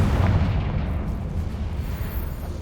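A Confringo blasting spell going off in the Hogwarts Legacy video game, a sustained deep rumbling boom with heavy low-end roar that slowly fades over a few seconds, loud and alone.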